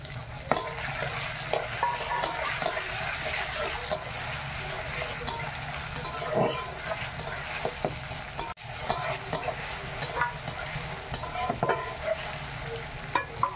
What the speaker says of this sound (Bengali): এবার আমি রসুন বাটাটা দিয়ে দিলাম।